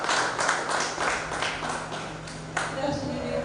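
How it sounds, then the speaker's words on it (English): Audience at a writers' bootcamp giving a brief round of applause, a moderate patter of clapping that fades toward the end as a faint tone enters. "Please round of applause for him."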